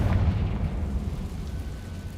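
A Confringo fire spell explodes in the video game Hogwarts Legacy, giving a deep, rumbling blast that stays loud and slowly fades over about two seconds.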